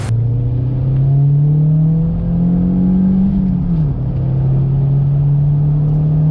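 An Audi car under full throttle, with a steady, loud engine drone and harmonics that rise slightly and then settle, continuous with no talking.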